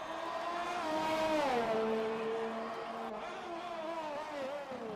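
A race car engine in a racing video game winds up under throttle with a smooth rising whine, dips briefly on a shift, then pulls on steadily at moderate loudness with no talk over it.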